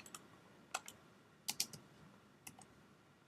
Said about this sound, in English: But I guess I got to type in this code.